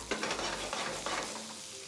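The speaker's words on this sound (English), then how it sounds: "a minute and a half now the asparagus has been cooking for" Asparagus sizzling in a hot pan for a vegan pasta dish, a steady close frying hiss with faint stirring scrapes, no talking.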